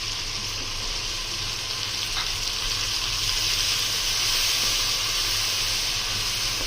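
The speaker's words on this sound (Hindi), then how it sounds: "हल्का सा हमने इसको मिक्स करना है और साथ ही हम टमाटर भी डाल देंगे।" Onions, garlic-ginger paste and tomatoes fry in a pan, a continuous close hiss and sizzle that holds steady from start to finish, alone without talk.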